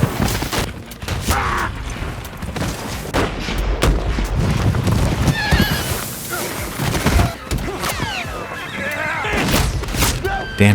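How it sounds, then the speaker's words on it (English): Horses neigh and whinny amid loud, dense gunfire and rifle shots echoing in a canyon ambush, chaotic and continuous throughout, with voices shouting in the mix. "Rangers fall one by one, horses neigh, and bullets shatter the rocks."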